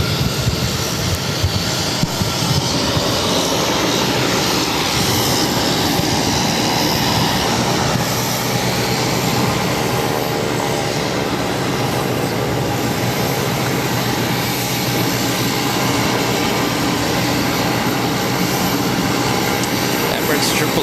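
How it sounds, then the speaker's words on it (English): An Embraer E190 jet airliner takes off at Boston Logan, a loud, continuous engine roar that fills the whole stretch at steady strength, with faint radio chatter mixed underneath. "1855 taking off to Washington Reagan National on an E190"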